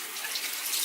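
Water running steadily from a bathroom tap into a sink while someone shaves, a smooth hissing splash that stays constant and close, with no voices.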